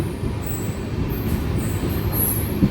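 A train pulls into Karaikudi Junction railway station with a steady low rumble and high wheel squeals drifting on and off, close and continuous.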